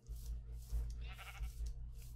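Sheep bleat faintly, one clearer wavering cry in the middle, over a low rumbling background typical of game ambience, in Minecraft.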